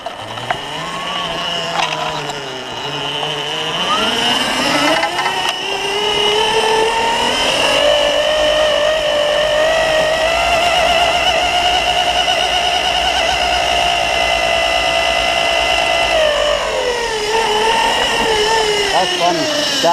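An electric four-wheel-drive ATV motor running in low range, a whining electric drone that rises steeply in pitch, holds a high sustained whir, then winds back down, with a voice briefly heard near the start.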